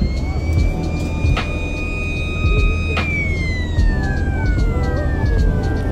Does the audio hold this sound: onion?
no